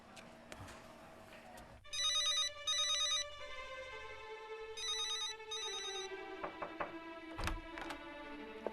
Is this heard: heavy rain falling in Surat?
no